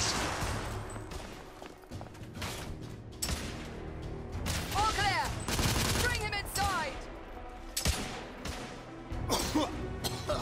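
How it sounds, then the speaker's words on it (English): Rapid bursts of gunfire in the video game The Order: 1886, loud and close, with sharp shots and machine-gun volleys under shouted voices and metallic clatter. "Lay down suppressive fire!"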